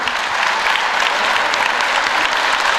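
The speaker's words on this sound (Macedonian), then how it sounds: "сакам да ве замолам со еден громогласен аплауз да и дадеме почит на овие луѓе што не са меѓу нас живите" Sustained, dense clapping from a crowd at a wrestling event, given in honour of the dead, loud and even throughout with no voices over it.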